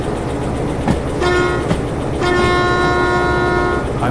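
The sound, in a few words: diesel-electric locomotive engine running in video game Derail Valley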